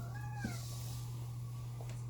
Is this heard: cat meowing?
yes